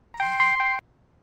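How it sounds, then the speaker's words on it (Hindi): A phone ringtone sounding once while a call is placed, a short bright electronic tone of about half a second, alone and fairly loud with no talking. "एक मिनट, मैं तिवारी जी को फोन करता हूँ"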